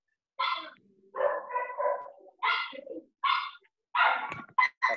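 Several dogs bark in quick bursts over a home microphone during an online anatomy class, close and loud, with short yips and barks separated by brief gaps, each bark clipped and slightly compressed as a video call transmits it.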